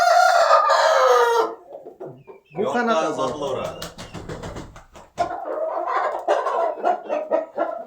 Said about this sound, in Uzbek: Xo'rozlar ko'raverasizlar.